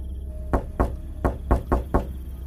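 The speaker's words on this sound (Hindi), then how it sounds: "दरवाजे पर फिर वही दस्तक हुई।" Knocks on a door at night in a Hindi horror cartoon: six firm knocks in an uneven rhythm, close and loud over a low steady hum.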